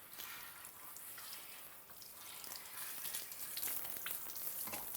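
Water splashes and patters while a hair system is rinsed during washing, a continuous soft spray with small irregular drips, fairly quiet and close.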